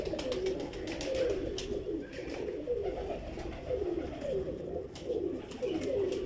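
A Lal Pari pigeon coos in soft, repeated rolling phrases, close and continuous, against a faint background of other bird chirps with no talking.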